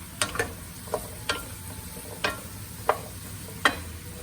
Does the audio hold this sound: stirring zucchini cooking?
yes